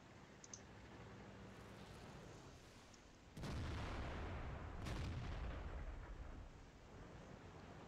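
A tank gun fires in the World of Tanks video game, a sudden deep boom over background game noise, followed by a rumbling tail and a second faint crack.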